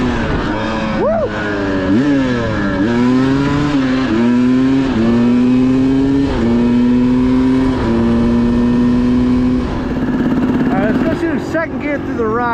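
A motorcycle fitted with an XTNG Gen3 Pro metering-rod carburetor runs in second gear over rocky ground, the engine droning loudly close by as its pitch rises and falls with the throttle, while a rider talks over it.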